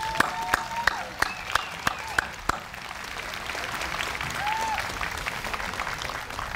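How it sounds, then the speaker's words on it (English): At an outdoor Memorial Day celebration by the American Legion in Bel Air, a crowd claps for a community van group. Sharp, evenly spaced claps ring out first, then a softer, steady murmur of applause and crowd noise continues. "Let's give them another round of applause."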